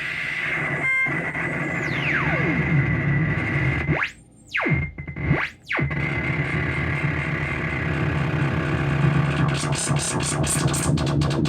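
A self-patched modular synth feedback system driven by a shift register churns out a dense, distorted, chaotic drone with a falling sweep, two abrupt dropouts into near silence, and rapid stuttering pulses toward the end, loud and continuous with no talking.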